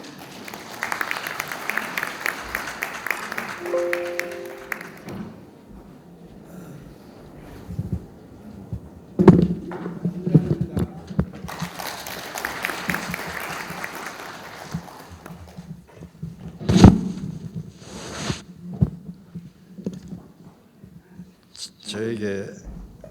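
Audience applause greets the keynote speaker at the opening of the 2023 ITS society autumn conference, coming in two broad bursts of clapping with voices talking in between and over them.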